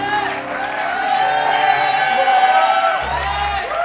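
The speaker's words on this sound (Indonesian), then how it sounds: "tepuk tangan untuk saya." A studio audience at an Indonesian TV show whoops and cheers in a sustained, lively burst, with voices rising and falling together.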